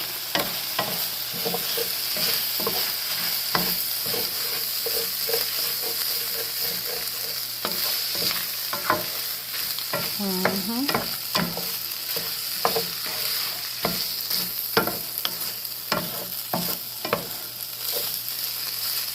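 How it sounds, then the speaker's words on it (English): Pork fried rice being stirred in a hot pan, a steady bed of loud sizzling broken by frequent close scrapes and taps of the utensil against the pan, continuous throughout with no voices. "I'm just about to take this here and mix everything together"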